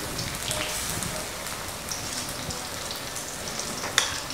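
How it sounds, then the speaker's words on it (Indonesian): Battered eggplant fries in hot oil, a steady, close crackling sizzle with scattered pops and one sharper pop near the end, with no voices. "Ini sisanya tepung tak buat goreng terong teman-teman ya."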